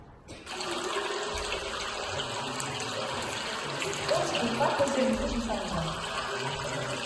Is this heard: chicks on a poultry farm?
no